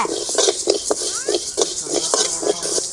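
Sesame seeds roasting in a pan while being stirred, with rhythmic scraping strokes and light clinks of the spoon against the metal over a soft dry sizzle. The sound is close and loud, and a voice is heard faintly in the background.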